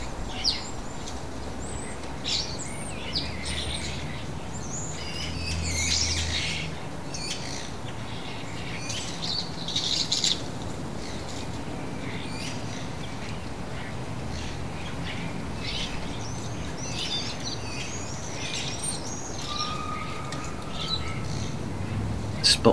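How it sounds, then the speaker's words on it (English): Young starlings calling in a town centre, a busy scatter of short chirps and squeaky notes from several birds over steady outdoor background noise, moderately close and continuous. "There are so many young starlings."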